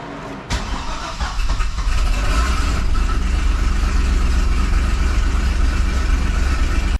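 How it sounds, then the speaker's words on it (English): A 2005 Chevy Corvette engine cranks and fires up with a sharp start, then settles into a loud, steady, slightly rough idle close by, with no talking. "let's go ahead and fire the car up"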